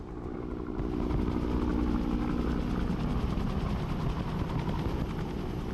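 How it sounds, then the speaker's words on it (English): A helicopter in the video game Broken Arrows during a battle for a city, its rotor beating in a steady, loud, close drone that swells after the first second and holds. "Helicopter! Helicopter!"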